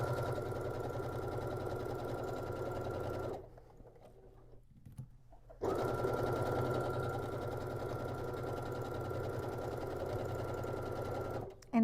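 Close and steady, a sewing machine runs a quarter-inch seam on a tote bag, humming for several seconds, stopping briefly, then resuming in another long even run.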